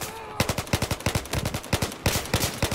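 Automatic weapon fire in Battlefield 4: evenly spaced, punchy shots in a steady rhythm, briefly pausing before resuming, heard close and clear at a moderate level.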